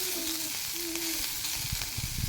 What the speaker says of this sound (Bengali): এইগুলো চলো লাল লাল করে ভেজে নিই